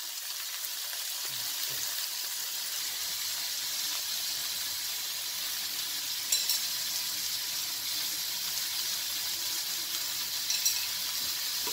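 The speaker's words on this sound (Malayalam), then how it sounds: "ആ കുനുകുനാന്നരിഞ്ഞ ഉള്ളി നമുക്കൊന്ന് മൂപ്പിച്ചെടുക്കണം." Finely chopped onion with salt frying in a pan, giving off a continuous even hiss and sizzle that stays steady and close, with only a couple of faint stirring touches.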